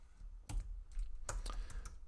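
Keys on a computer keyboard are typed in a short, irregular burst of quiet clicks and taps, close up and alone with no voices.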